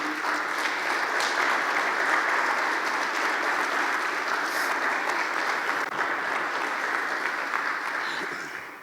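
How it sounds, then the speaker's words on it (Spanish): A church congregation breaks into applause for the Lord during a Christian sermon, a loud, sustained roar of many hands clapping that fades slightly toward the end. "Le damos un aplauso al Señor."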